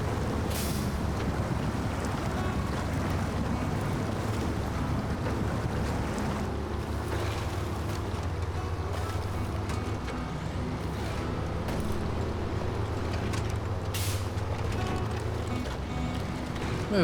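ANK MK38 truck in low gear in SnowRunner, a steady deep engine drone with rumbling low tones held at an even loudness, broad noise over the top and no talk.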